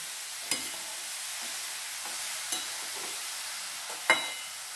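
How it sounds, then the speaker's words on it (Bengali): Mung dal mixture sautéing in a covered pan over low flame, with a steady, moderate sizzle and a few sharp utensil clicks and scrapes. "এখন চাপা দিয়ে আমি এটা কিছুক্ষণ কষিয়ে নেব।"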